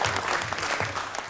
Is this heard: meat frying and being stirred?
no